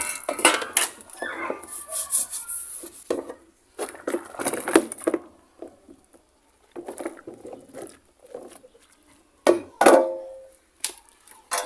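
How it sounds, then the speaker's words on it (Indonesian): A mixer's body and box being scrubbed clean with Sunlight soap, intermittent close rubbing, clattering and plastic knocks in uneven bursts separated by short quiet gaps. "Kita cuci pakai sunlight sampai bersih."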